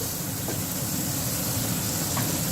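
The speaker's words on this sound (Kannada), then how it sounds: "ಅದನ್ನು ಸ್ವಲ್ಪ ಟೊಮೆಟೊಸ್ ಎಲ್ಲ ಮ್ಯಾಶ್ ಆಗೋಷ್ಟು ಅದನ್ನು ಫ್ರೈ ಮಾಡ್ಕೋಬೇಕು" Tomatoes fry in a pan for aloo sabji, giving a steady, dense sizzle throughout, close and moderately loud, with no one talking.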